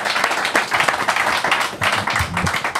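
Brief audience applause on a live comedy show, a loud, uneven patter of clapping close by, with a voice briefly mixed in near the end.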